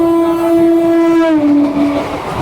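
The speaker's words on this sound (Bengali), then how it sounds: "প্ল্যাটফর্মে ট্রেনের যে স্পিড।" A train rushes past a platform at busy Sealdah railway station in Kolkata, its loud sustained horn tone sliding slightly lower as it goes by, with rumbling rail noise underneath.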